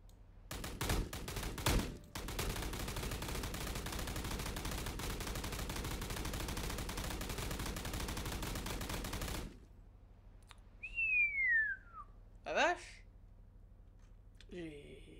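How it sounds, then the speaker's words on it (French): Rapid automatic fire from a Russian machine gun in the video game BRM5, a dense, loud continuous burst lasting several seconds, followed by quieter scattered game sounds and a rising whistle-like tone. "Ok, c'est une autre mitrailleuse russe."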